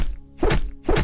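Hammer blows land as two sharp, heavy whacks about half a second apart, close and loud with short resonant tails.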